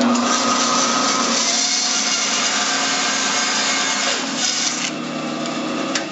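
A handsaw cuts through a wooden toothpick holder on a lathe project, giving a steady, loud rasping stroke sound that runs continuously and eases slightly near the end.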